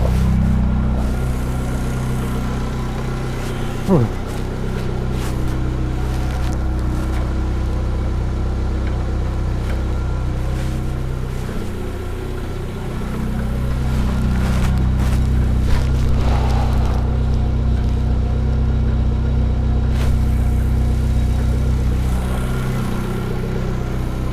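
A Fiat Panda 100HP engine runs steadily for a long stretch while its gears are tested after clutch and gearbox work, a constant low drone with small shifts in pitch and occasional clicks, no talking.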